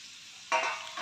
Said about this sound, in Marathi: आता हे टोमॅटो मंद आचेवरती चांगल्या प्रकारे शिजू द्यायचे